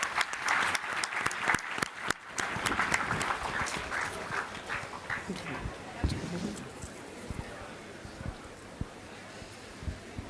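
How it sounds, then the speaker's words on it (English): An audience claps for the cricket winners at a college sports day held during a Teachers' Day event, with loud, dense applause that gradually thins out, heard alongside some crowd murmur and a voice. "Can we have a huge round of applause for them?"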